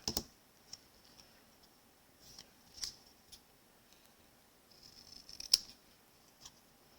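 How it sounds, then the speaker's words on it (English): Scissors snip the top off a paper craft piece for a stamped card, giving several faint, sharp, separate cuts with quiet pauses between them. "I'm just going to cut the top of that off just to make it a little tighter"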